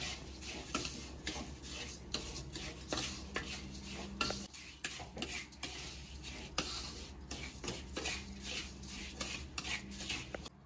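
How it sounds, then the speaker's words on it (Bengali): A spoon scrapes and stirs semolina and sugar frying in ghee in a metal pan, giving a steady stream of close scraping and clinking strokes. "এবার চিনি দিয়ে ভালো করে ভাজবো।"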